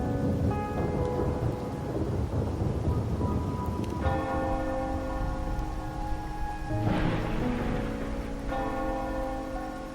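Steady rain with rolling thunder in the game Wuthering Waves, set in a rainy Raguna night, with sustained tonal ambient music ringing over the downpour.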